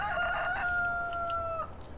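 A single rooster crow from the Farming Simulator 15 video game, one clear, drawn-out cock-a-doodle-doo lasting under two seconds, close and alone.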